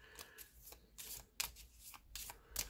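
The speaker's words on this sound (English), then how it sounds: "And then shuffle a little bit more so no one can accuse me of cheating and stacking the deck." Someone shuffles a deck of playing cards for a solo board game session, producing several quick riffled bursts and soft flutters at an irregular pace, close and quiet.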